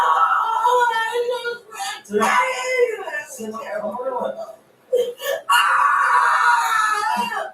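A woman screams and wails loudly and close by during a police arrest, in repeated high, strained bursts broken by sobbing gasps and short pauses.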